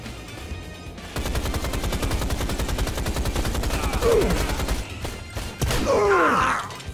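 A weapon rattles off a long rapid burst of gunfire in a video game, the shots close and loud for several seconds, followed by a brief groan-like vocal sound.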